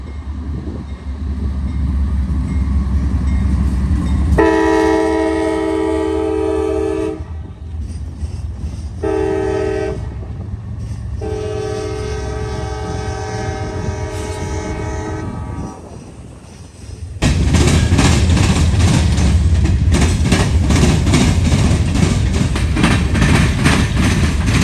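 CSX freight train E640 rolling southbound on the Pemberville subdivision, its horn sounding in long loud blasts over the steady rumble and rail noise of the passing cars, ending in a louder roar as the train goes by.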